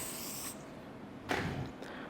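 Hair spray hissing from a can while a low bun is styled, a steady spray for half a second, then a louder burst and a brief final puff, close up.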